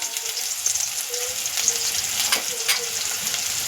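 Onion-garlic masala sizzles in hot oil in a pan while egg rice is cooked street style, with a steady close frying hiss and occasional stirring scrapes, no voices.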